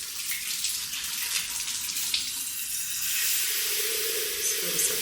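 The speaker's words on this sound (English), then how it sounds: "just fill this up with some water." Tap water runs into a cookie jar in a steady, close hiss, the pitch shifting slightly as the jar fills.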